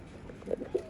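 A Teddy pigeon in Lahore gives two soft, low coos in quick succession, faint against a quiet background.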